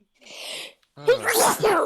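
A single close, breathy sneeze bursts out, followed after a brief pause by a person talking.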